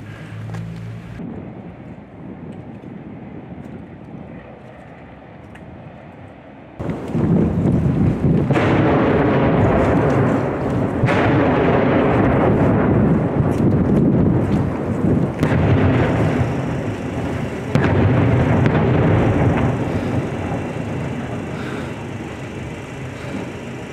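Artillery shelling around Debaltseve during the war in eastern Ukraine, heard as a quiet rumble followed by loud, sustained booming and roaring blasts in repeated heavy waves, with wind noise on the microphone.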